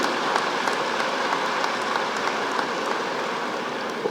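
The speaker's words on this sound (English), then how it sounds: "Give a big round of applause for Honorable Chief Minister Sri Naveen Patnaik ji" A stadium crowd at Kalinga Stadium in Bhubaneswar claps for Chief Minister Naveen Patnaik at the Odisha Skill Conclave 2023, a steady, even patter of applause lasting the whole stretch.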